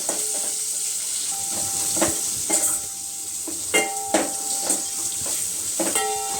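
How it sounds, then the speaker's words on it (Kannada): Spices and turmeric frying in a hot pan, with a steady sizzle throughout and a series of sharp scraping stirs and utensil taps against the pan. "ಸ್ವಲ್ಪ ಅರಿಶಿನ ಕೂಡ ಆ್ಯಡ್ ಮಾಡಿದ್ದೀನಿ. ಸ್ವಲ್ಪ ಇದೆಲ್ಲ ಚೆನ್ನಾಗಿ ಫ್ರೈ ಆಗಲಿ."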